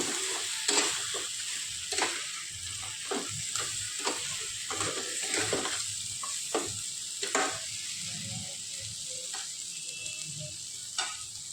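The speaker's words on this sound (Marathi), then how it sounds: "पाच एक मिनटं मी व्यवस्थित खेकडे परतून घेतलेले" Crabs sauté in a pan for a south-style crab masala, a low steady sizzle punctuated by repeated sharp scrapes and knocks as the pieces are turned over at an uneven pace.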